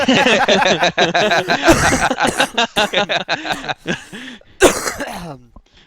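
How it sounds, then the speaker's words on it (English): Several harsh coughs and throat clearing break up a stretch of close talking, with a louder cough burst near the end. "sorry about the cough, folks listening at home"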